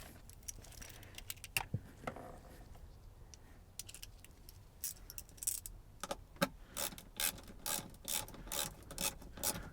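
A hand ratchet clicks rapidly while tightening bolts on the dash cover bracket of a 1999 GM OBS truck. Close, crisp bursts of ratcheting come in uneven runs, growing more regular toward the end.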